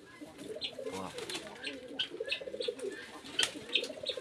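Pigeons coo softly inside a storage room, repeated low calls with occasional light flutters and some chirps, fairly faint.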